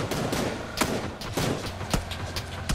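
Gunfire in PUBG on the Vikendi map comes as close, sharp bursts of shots in an uneven rhythm, with a vehicle engine droning underneath.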